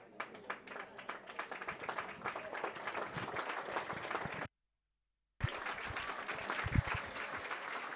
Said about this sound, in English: Jerry McCabe lifting the trophy there to a huge amount of applause here, standing ovation